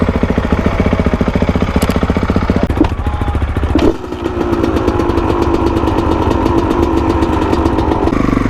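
Kawasaki KX450X dirt bike engine running close by, a loud steady idle with a rapid pulsing beat and a brief blip of throttle midway, continuous with no talk.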